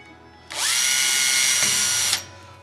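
Power drill boring a pilot hole into hardwood for nails, a single close, loud, high whine that spins up, holds steady for about a second and a half, then cuts off.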